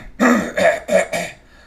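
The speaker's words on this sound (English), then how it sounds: "Let me clear my throat" A man clears his throat in four rough, gravelly bursts close to the microphone, each separated by a short gap, with no words spoken.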